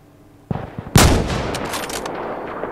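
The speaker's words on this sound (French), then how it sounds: "Bon là je tire mais il me semble qu'il y avait personne." Gunfire in the Insurgency: Sandstorm game on the Farmhouse map in push mode: a soft thud, then a loud, sharp close shot with a rolling echoing tail and a few fainter pops after it.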